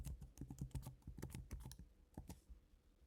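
Quick keystrokes tap out a password on a computer keyboard, a brisk uneven run of close, soft clicks that trails off into quiet, with no voice.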